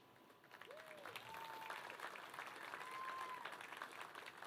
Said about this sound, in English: I always love it when people applaud when they know that I'm done talking about the college